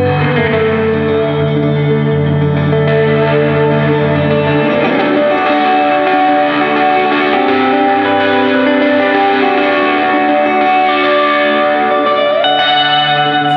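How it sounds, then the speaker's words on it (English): Heavily saturated, distorted guitar tone through an effects pedal, sustained chords ringing with echo and reverb, loud and continuous with no talking. "You can really hear that saturation."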